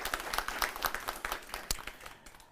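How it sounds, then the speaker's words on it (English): Audience applause at a gubernatorial debate for a candidate, a short burst of scattered, fairly close hand claps that thins out and fades after about two seconds. "Let's clap for Dr."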